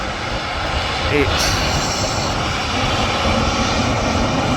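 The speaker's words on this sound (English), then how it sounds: "that's an Airbus A320 FHZUA" An Airbus A320 airliner engine roars steadily and loudly at Manchester Airport, a broad continuous rumble with people speaking briefly over it.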